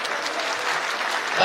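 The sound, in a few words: women in the audience applauding at a political rally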